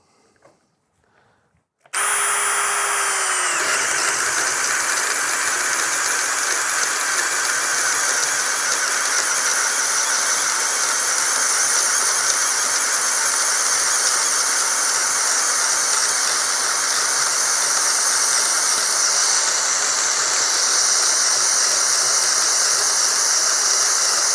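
A Dnipro-M cordless drill bores a 28 mm bit into a wooden beam; after a brief quiet start it kicks in loudly and whines steadily with a high squeal for over twenty seconds without pause.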